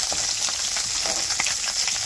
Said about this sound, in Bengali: নদীর মাছ কিন্তু ভাজা করতে আরাম, তেল থাকে বেশি, অল্প তেলেই ভাজা হয়ে যাবে